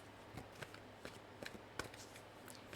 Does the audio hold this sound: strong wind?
no